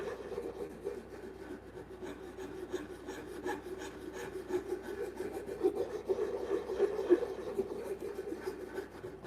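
Steady abrasive rubbing of an antique Japanese chisel being sharpened, a continuous rasping scrape with a repeated stroke rhythm, close and moderately loud, with no talking.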